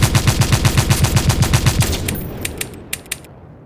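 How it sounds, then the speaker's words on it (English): An audio-drama rifle emptying its whole clip across open countryside: a rapid, evenly spaced burst of about fifteen loud shots, followed by a few sparse, sharper reports and echoing tails fading into quiet. "Explosions punctuate the countryside as the muzzle flashes sporadically"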